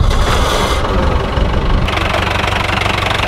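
An old 1996 Gypsy engine cranking and running roughly, with a loud, close, uneven knocking rumble that shifts and falters as it struggles and stalls, with no talk over it.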